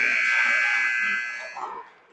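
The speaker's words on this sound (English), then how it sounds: "Buzzer rings." An ice arena buzzer marking the end of youth hockey warm-ups, one long loud electronic tone that holds steady and then fades out, with faint crowd murmur beneath.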